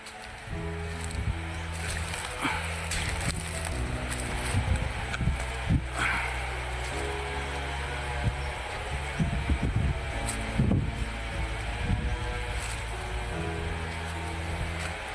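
A river flowing in rural Mindanao, a steady broad wash of moving water running throughout, with faint voices and low engine-like hum in the background.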